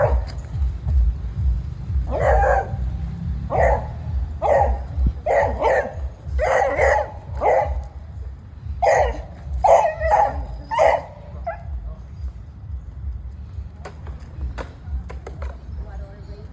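A dog barks aggressively at another dog in loud, close clusters of sharp barks and yips separated by short pauses, with a low rumble of voices and movement underneath.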